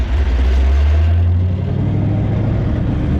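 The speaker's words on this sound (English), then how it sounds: "The rear drive shaft is still turning, but you can see it's pretty unhappy." A car running in front-wheel drive with a broken rear driveshaft that still turns, giving a loud, close, deep droning rumble that steadies after a second, with a faint whirring note above and no talk.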